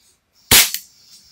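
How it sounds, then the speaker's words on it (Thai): A single sharp shot from a Taurus PT92 pistol fired indoors, loud and close, with a brief echo of the room afterward and no talk. "ยิงสนุกเลยครับมันไม่ค่อยแรงมากอ่ะไม่แรงมากดีแล้วเพราะมันจะยิงในห้องแล้วมันจะปลอดภัยไง"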